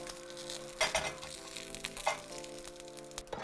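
Onion and garlic fry in oil with a soft steady sizzle, joined by a few louder crackles and light clatters near the pan.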